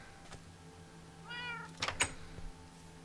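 Minecraft cats meowing in-game, a short series of tonal meows mid-clip followed by a couple of sharper, louder cries, over a quiet background hum with no talking.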